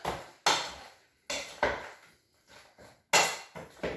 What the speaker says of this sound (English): Okay, and then I stir it up.